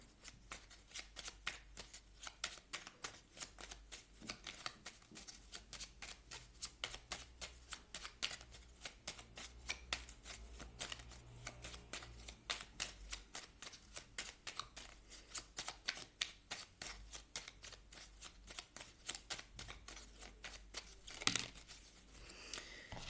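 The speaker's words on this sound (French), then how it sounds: "je vais vous prendre également une carte de cet petit oracle" Oracle cards are shuffled continuously at close range, giving a steady, rapid riffling and flicking patter that runs alone for over twenty seconds, with a brief louder rustle near the end.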